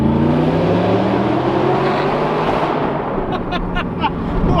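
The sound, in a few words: straight-piped sports car exhaust revving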